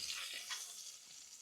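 Celery and small onions sauteing in rendered pork fat in a skillet, a faint, steady sizzle and crackle heard up close and alone for a brief moment.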